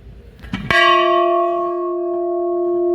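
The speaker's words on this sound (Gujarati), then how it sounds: "આપણે ઘંટો વગાડવાનો છે તો આવી રીતે" A single metal temple bell at a Shiva temple is struck once, loud and close, its clear ringing tone sustaining and slowly fading after a short shuffle.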